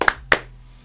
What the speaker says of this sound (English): 2 claps, ready.